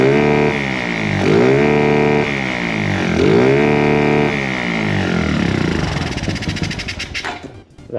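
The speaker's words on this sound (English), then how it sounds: "That sounds like it's revving all the way out." An engine revs up and down twice in smooth surges, then sputters roughly and cuts out at the end.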